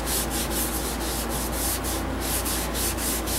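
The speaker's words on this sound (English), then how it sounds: "So I should be able to get this Yorkshire grit to work on this larger piece, no problem." Hand sanding Spanish cedar wood with Yorkshire grit abrasive, a rhythmic back-and-forth scratchy rubbing repeated in quick strokes, close and steady, with no talk.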